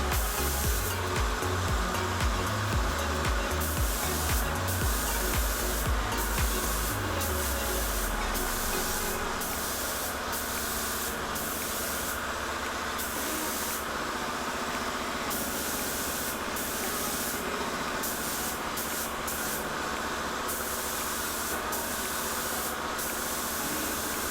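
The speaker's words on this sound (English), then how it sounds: "That compressor is so noisy" A loud, steady hiss of spray painting a Mercedes-Benz C200 runs throughout, with a low rumbling air compressor pulsing noisily underneath for the first several seconds.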